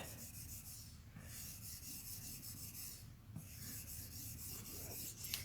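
A sharpener scrapes across a tungsten carbide blade edge in long, quiet rasping passes, with a brief break between strokes and no talking.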